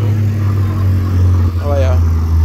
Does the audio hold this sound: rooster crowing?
no